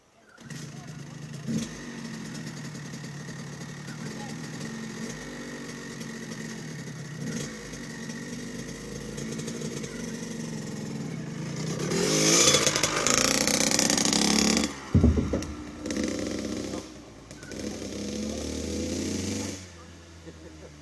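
Kawasaki KX 85 or Suzuki RM 85 dirt bike engine buzzing and revving, mostly at a steady mid distance, then swelling to a loud, close, high-pitched blast before easing off, with people talking at times.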